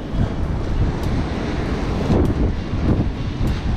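Strong wind at sea roars across the microphone during a fishing trip, with surf and waves churning beneath a loud, steady gusting rush that never lets up.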